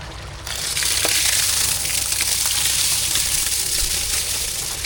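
Rice being stirred into a chicken biryani masala in a pot, a steady close sizzle and wet frying hiss that swells after the first half second and stays loud and even, with faint scraping of stirring underneath.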